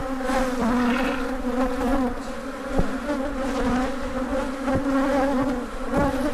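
A dense, steady buzzing of many bees around a large old hive close by, droning continuously throughout with a few faint knocks underneath.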